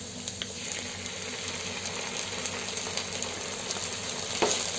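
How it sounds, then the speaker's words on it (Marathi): Onion sautéing in hot oil with ginger-garlic paste for chicken kheema sizzles steadily and fairly loudly, with faint stirring scrapes and no talking. "पेस्ट टाकल्यानंतर 1 मिनिट आपल्याला असाच हा कांदा परतवून घ्यायचा आहे"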